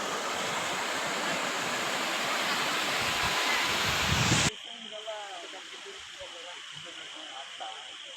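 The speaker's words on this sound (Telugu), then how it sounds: "భారీ వర్షానికి జిల్లాలోని వాగులు వంకలు పొంగి పొర్లుతున్నాయి" Floodwater roars through overflowing streams after torrential rain in Kurnool district. A loud, dense rushing wash holds for about four seconds, then cuts abruptly to a quieter scene with fainter flowing water and faint voices.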